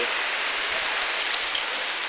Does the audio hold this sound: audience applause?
no